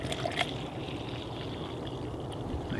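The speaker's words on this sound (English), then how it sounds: "all you do is you fill the bottle with water right about to there, to the top of the grip" Water runs into a plastic blender bottle in a continuous soft trickling rush, with a couple of faint clinks near the start.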